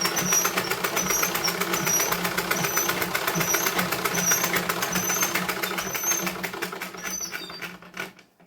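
A sewing machine stitches blouse fabric in one steady, fast mechanical run, loud and close, slowing and stopping near the end with no talk over it.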